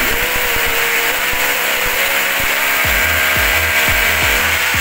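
A power drill bores holes into a bathroom wall for fixtures such as a fan, curtain rod and doorbell, whining loudly and continuously at close range, then breaking into a rapid rhythmic chatter of repeated thumps.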